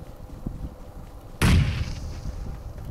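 A grenade explosion in a first-person shooter video game: a single loud, close boom that bursts suddenly and rumbles away over a couple of seconds, following quiet low ambient noise.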